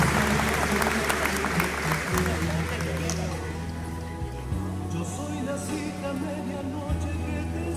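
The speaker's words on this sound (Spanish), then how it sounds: "Fuerte el aplauso en nombre de la comunidad de Villa Ángela." Strong crowd applause at the 115th anniversary ceremony of the city of Villa Ángela, Argentina: sustained, dense clapping that fills the whole span, with a steady tonal layer running beneath it.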